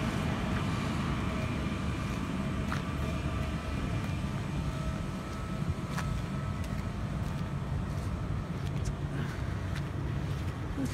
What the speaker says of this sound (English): the train is now going into the sidings